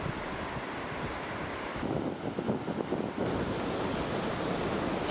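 Ocean waves roll onto the coast at Alaminos City, Pangasinan, with steady wind buffeting the microphone; a broad, continuous wash of surf swells briefly louder midway and carries on with no voices.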